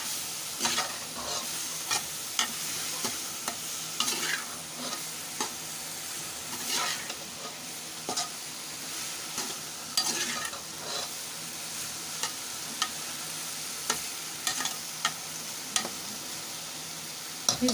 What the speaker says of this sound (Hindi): अब मैं इसमें डालूँगी देसी तोरियाँ और इनको थोड़ी देर के लिए हम भूनेंगे